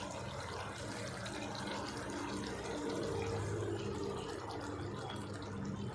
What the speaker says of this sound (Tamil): நம்ம மசாலா பொடி மிக்ஸ் பண்ணி வச்சுருக்கோம் இல்லையா தண்ணியில் அதை இதில் சேர்த்திடுவோம்